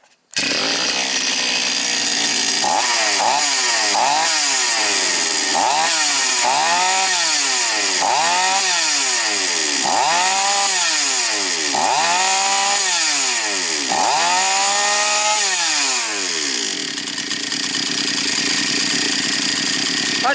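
Small Chinese gasoline chainsaw engine being pulled and restarted after repair, catching into a loud, steady low idle with repeated rising revs before settling, no talk over it.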